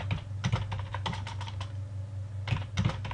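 Keys clatter on a computer keyboard as a folder name is typed, two quick bursts of close, crisp clicks separated by a short pause.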